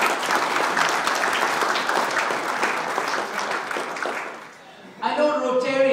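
A round of applause at a Friends of Kashmir gathering rings out as sustained, dense clapping from an audience that fades briefly before a speaker's voice returns at the end.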